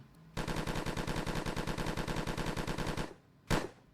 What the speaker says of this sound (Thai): ถ้าเกิดว่าตัวละครเราโดนยิงหัว แล้วตายเป็นยังไงนะครับผม